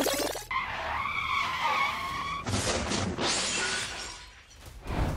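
Tyres screech as a speeding car skids, followed by sharp crashing and shattering impacts as it strikes a rickshaw in a slow lane, the skid and crash noises loud and close in several bursts.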